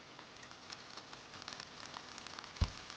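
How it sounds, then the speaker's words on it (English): Steady rain falls in a forest around a transparent plastic-wrap tent, a soft continuous patter of drops with scattered closer taps and one sharp knock near the end, no voices. "The weather at this time is due to the rain."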